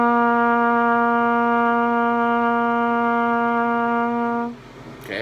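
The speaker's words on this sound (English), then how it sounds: "So the first note is low C, and it sounds like this." A trumpet sounds a sustained low C, a steady brassy tone with rich even harmonics held for about four and a half seconds before cutting off, followed by a soft breath.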